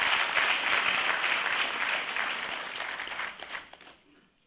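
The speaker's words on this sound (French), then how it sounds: "Je vous demande d'applaudir le représentant du maire et tous nos invités ici présents." Audience applause for the mayor's representative and guests at a back-to-school meeting held by a minister, a broad wash of many hands clapping, fading away over the last second into near silence.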